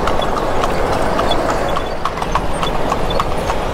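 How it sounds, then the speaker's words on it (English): Horse hooves clip-clop on a road in Lucknow, India, as the horse pulls a cart, a loud, close, steady rhythm of hoofbeats that carries on without pause. "But so far so good in this horse and cart ride in Lucknow."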